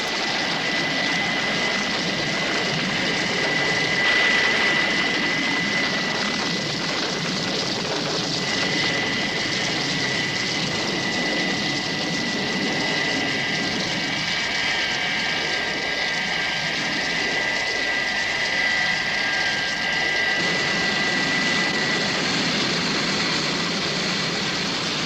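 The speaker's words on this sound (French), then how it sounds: "Bravo pour l'atterrissage, Virgile." Vintage propeller aircraft engine droning steadily and loudly throughout the landing, a continuous roar with no voices over it.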